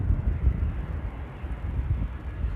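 Airliner powered by Rolls-Royce Trent 7000 engines arriving at Amsterdam Airport, a steady low-pitched jet rumble mixed with wind buffeting, sustained and fairly loud with no talk over it.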